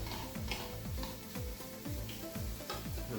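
Apples browning in a frying pan with regular stirring: a steady sizzle runs throughout, with repeated scraping strokes of the spoon every half second or so, close and fairly loud, no voices.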